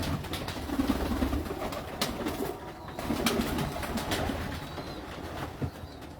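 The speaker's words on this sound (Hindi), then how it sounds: "ये इनको जोड़े वाले कबूतर हैं जी" Breeding-pair pigeons coo on a Lahore rooftop, repeated low throaty calls rising and falling at moderate distance amid faint clicks and light background noise.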